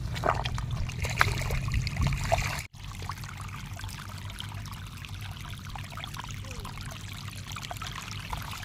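Irrigation water runs into a paddy seedbed with a continuous pouring, trickling flow. It is loud at first, briefly cuts out, then carries on as a steady moderate stream.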